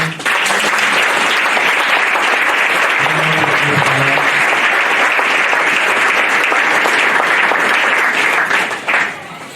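A church congregation applauding and acclaiming, loud sustained clapping from many hands that fills the room for nearly ten seconds before tapering off, with faint voices mixed in.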